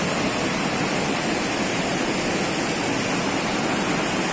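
Steady, loud rushing of a steaming hot spring stream at Manikaran, running alongside cold water amid snowfall, a continuous dense wash of flowing water with no pauses and no voices.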